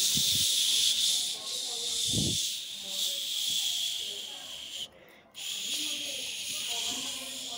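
Onions hiss and sizzle in a hot pan as they are added, a steady bright frying hiss throughout with a couple of brief low thumps and a short gap, close and continuous.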